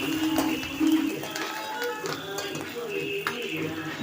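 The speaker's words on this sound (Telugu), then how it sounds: "ఇప్పుడు కరివేపాకు వేసుకొని ఫ్రై చేసుకోవాలి" Curry leaves fry in hot oil in a pan with browned onions for a moong dal tomato curry, a steady broadband sizzle with light clinks of a spoon against the pan throughout.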